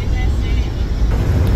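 A motorhome drives through Findlay, its engine and road rumble a loud, steady low drone heard from inside the cabin.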